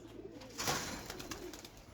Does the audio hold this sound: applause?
no